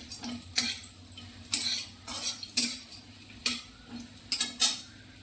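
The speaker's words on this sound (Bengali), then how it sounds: "কড়াই তেল গরম হয়ে গেছে, আমি বড়িগুলো সব দিয়ে দিলাম।" Bori lentil dumplings frying in hot oil in a wok, with a low steady sizzle broken by several sharp metallic scrapes and clinks of a utensil against the pan, spaced roughly every second, close and clear.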